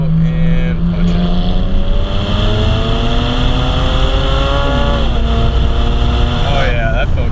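A tuned BMW 335i with the N54 engine, downpipes fitted, pulls hard on a canyon road, revs climbing through gears in a loud, close, continuous rasp with brief dips at shifts.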